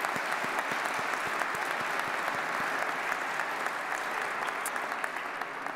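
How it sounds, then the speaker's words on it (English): Steady audience applause at the Utah State Capitol centennial celebration ceremony, a dense continuous wash of clapping from a large crowd that holds at even strength throughout without talk. "Please join me in giving them a round of applause."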